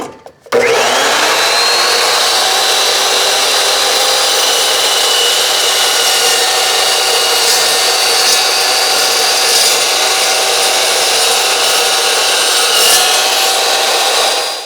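An Evolution chop saw cuts through stock in one loud, sustained whine, close up and steady for nearly fifteen seconds after a brief spin-up, then cutting off at the end.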